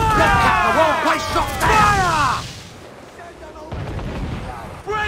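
Broadside ship cannons fire in a battle in Assassin's Creed 4 Black Flag, heavy booms mixed with loud shouting and game voices, followed by a quieter stretch and a few more muffled blasts.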